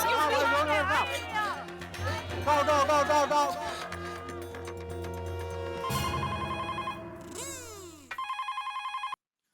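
A telephone rings in a Hindi TV sitcom scene, a repeated electronic ring that comes in clearly and loudly near the end after a stretch of background music and tones.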